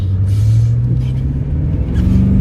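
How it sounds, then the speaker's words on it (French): An Audi A8 D3 launching hard under launch control, a loud close engine roar with a low rising drone as it pulls away. "On va faire un petit départ, on va faire un petit launch control"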